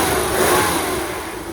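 A BMW E23 car engine revs up close as the accelerator is pressed, a short, loud, steady rev that eases off slightly at the end.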